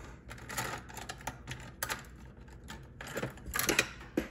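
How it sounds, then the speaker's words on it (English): Small craft supplies and tools clatter and tap in irregular bursts as someone rummages through them looking for an X-Acto knife while making polymer clay earrings; the sounds are close and fairly quiet. "Excuse the noise and me shuffling through."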